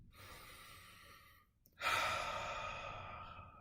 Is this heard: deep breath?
yes